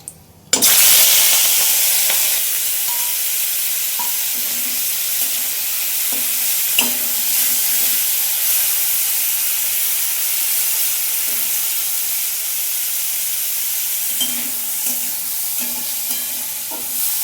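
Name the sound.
prawns frying in oil in a wok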